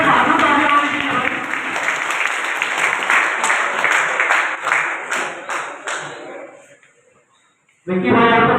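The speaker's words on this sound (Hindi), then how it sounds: "भाई बहादुर कबूतर के बहादुर तालियां होनी चाहिए" A crowd applauds the owner of a pigeon at a pigeon-flying tournament celebration in Lucknow. The loud clapping with voices mixed in tapers off into near silence, then a short burst of noise starts again.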